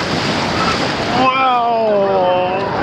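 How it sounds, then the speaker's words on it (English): Waves rush and churn in a water park wave pool, a loud, close wash of surf and wind noise with voices calling over it. "we're in the wave pool at the start"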